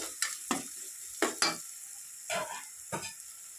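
Thick tamarind juice being poured and stirred into a simmering korameenu fish curry, giving soft wet sloshing and scraping strokes over a steady bubbling sizzle, close up with no talk.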